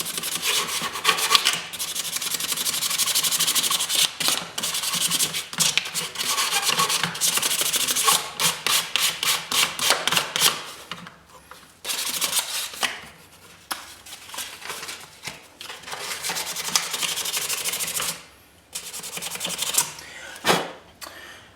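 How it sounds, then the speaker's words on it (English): Fine high-grit sandpaper wrapped around a finger is rubbed back and forth along an edge on a guitar pickup job, making loud, rhythmic scratchy strokes in quick bursts with brief pauses between. "So let's get some sandpaper, some high grit stuff, just a bit of that, just to clean up that edge there."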